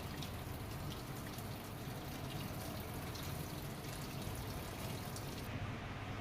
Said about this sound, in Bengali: আমরা এখান থেকে পানিটা দিয়ে দিচ্ছি